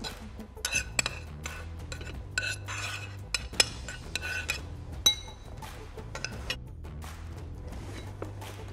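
Scallion, ginger and garlic being mixed by hand with mushrooms and parsley for canederli dough in a bowl: repeated clinks and scrapes of a utensil against the bowl, irregular and close, over faint background hum.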